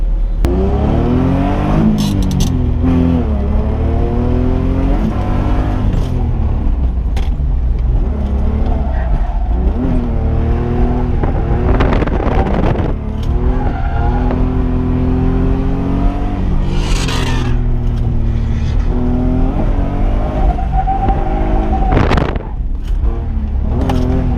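A stock BMW E46 drifting on a track, its engine revving hard and rising and falling in pitch again and again while tires squeal, loud and close from inside the car throughout.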